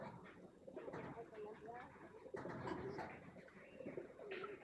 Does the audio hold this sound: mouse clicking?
no